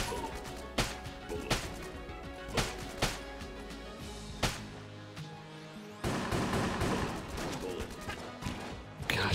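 Repeated gunfire from a weapon in the video game Enter the Gungeon, sharp loud bursts at irregular intervals over a continuous game soundtrack, turning into a denser barrage near the end.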